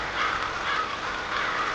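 Crows caw in a forest, their rough calls repeating in a few loose waves over a steady background hiss, moderately distant and with no speech.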